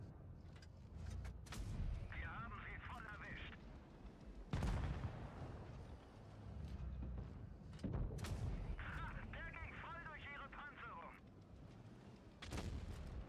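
Sharp gunshots in a tank video game with an E-50M, landing in a few separated heavy bursts amid constant engine rumble and battle noise, while a person talks over it.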